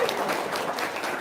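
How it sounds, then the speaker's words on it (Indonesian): A short burst of audience applause, many hands clapping together in a brisk, even patter at moderate distance, with no voice over it. "Tepuk tangan dong."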